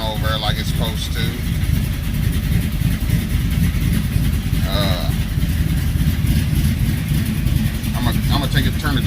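A 1968 car with a swapped 5.3 V8 runs at a steady, fairly loud idle nearby, its rumble continuous under someone talking over it.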